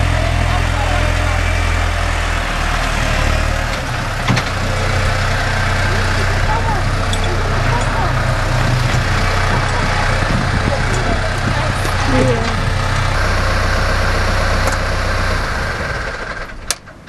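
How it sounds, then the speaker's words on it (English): A tractor engine runs steadily at close range with a loud, deep rumble that holds for the whole stretch, only easing slightly at the end. "You had a tractor ride, Finn."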